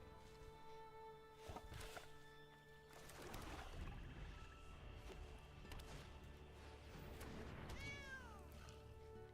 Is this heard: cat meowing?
yes